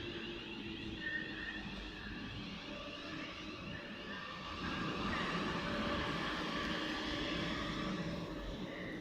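A Class 350 electric multiple unit in Midlands livery passes through Watford Junction on the West Coast Main Line, a steady broadband rumble of wheels and motors with gentle cooling-fan whine, swelling louder halfway through.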